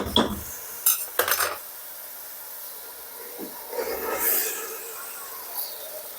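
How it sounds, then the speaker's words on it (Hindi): Chopped ridge gourd is stirred into a spiced tomato gravy in a pan, with a metal spoon clinking and scraping against the pan over a steady low sizzle, a few sharp clanks near the start, and no talking. "बहुत अच्छी तरह से इन्हें मैं ऊपर नीचे करते हुए मिक्स कर लूंगी मसालों के साथ"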